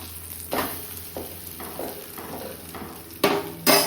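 An oats omelette fries in a pan for breakfast, a low steady sizzle broken by a few scraping stirs and two sharper knocks near the end, with no speech.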